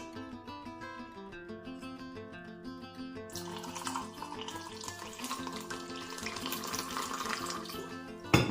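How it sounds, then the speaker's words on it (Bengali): Hot water pours into a cup holding chocolate protein powder, a rushing stream that begins partway through over steady background music. "এটার সাথে আমি এখন গরম জল অ্যাড করে নিচ্ছি"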